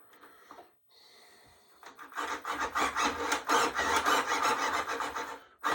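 Wood being ground out with a drill on a Meister F4U Corsair model build, a dense, steady rasping grind running for several seconds after quieter brief scraping at the start.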